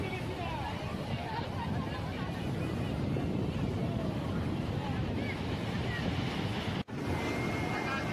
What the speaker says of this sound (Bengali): এখানে আবার ঢেউগুলো কিন্তু অনেক জোর হচ্ছে ঢেউয়ের টানটা কিন্তু অনেকটাই